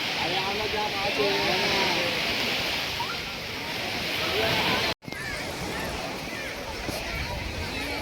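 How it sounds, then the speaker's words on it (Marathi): Sea waves wash onto the shore in a continuous, loud surf roar that fills the whole stretch, with distant crowd babble mixed underneath. "फक्त लाटांचा आवाज आहे"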